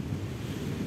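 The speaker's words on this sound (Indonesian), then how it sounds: "Dengarkan deru ombak." Steady roar of surf at Midodaren beach with wind buffeting the microphone, a continuous rumbling wash of waves.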